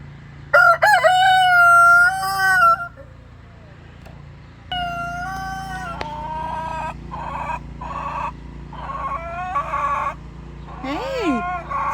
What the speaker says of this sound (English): Romeo, you talking to the other roosters?